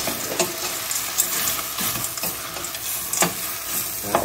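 Frozen petits pois and green beans are stirred in a sizzling pan while making spaghetti bolognese. A steady fry hisses underneath, broken by a few scraping stirs.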